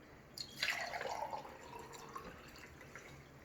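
Yellow-dyed water is poured from quart containers into pint containers, a soft, fairly quiet trickle and splash lasting a couple of seconds, swelling early and then tapering into faint drips.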